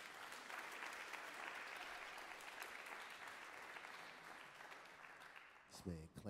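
Audience at a spoken word poetry night keeps up a thick wall of clapping that gradually thins, then a voice starts speaking as the applause fades out.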